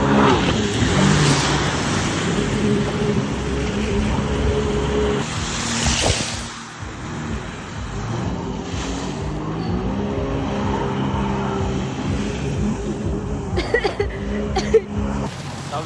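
A BMW 320i M accelerating in Santa Fe do Sul, engine note rising and falling loudly up close over a steady rumble, with a few sharper revs near the end.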